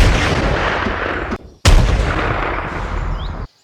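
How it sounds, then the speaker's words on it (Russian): Gunshots ring out during a boar hunt in the woods, a long loud blast that cuts off abruptly, then after a short silence a second sharp loud report that rolls on for nearly two seconds before stopping. "Пока шли, услышали 3 выстрела."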